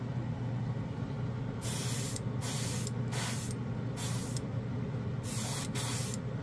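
Several bursts of a spray gun laying down a first coat of SMS color shift paint over a gray base, each hissing blast lasting about half a second to a second with short gaps, steady and close, over a constant low background hum.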